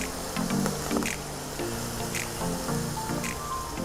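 Sauce of water or stock with spices for tofu bubbling gently in a pan, faint, soft irregular pops and squishy simmering over a low background hiss.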